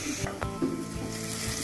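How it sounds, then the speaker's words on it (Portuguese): Garlic and onion sauté in a pan for seafood rice, giving a steady close sizzle with a few soft clicks of stirring and faint background tones. "e colocamos o alho. Deixamos refogar até que murche."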